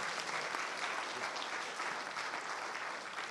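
Steady applause fills a room at a Drupal conference session, a dense, even clatter of many hands clapping throughout with no voices breaking through.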